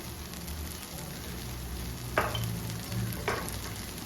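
Spice powders, Kashmiri chilli powder and ground black pepper, fry in a pan for a Kerala okra dish with a quiet continuous sizzle. Two distinct stirring scrapes stand out over it, close and moderately loud.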